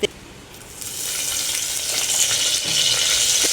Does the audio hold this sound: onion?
yes